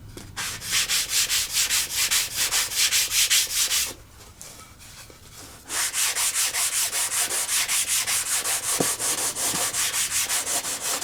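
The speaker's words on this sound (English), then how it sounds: "So let's just sand this to a bit of a profile." Hand sanding of a balsa model aircraft tailplane for a Warbirds Replicas FW190 build: rapid rhythmic back-and-forth rasping strokes, close and steady, with a short pause midway before the strokes resume.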